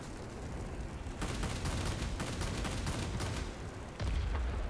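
A BF 109 Z heavy fighter firing its guns during a dogfight in the video game World of Warplanes: several rapid bursts of automatic fire rattle over a loud, constant engine drone, ending in a deeper, heavier rumble.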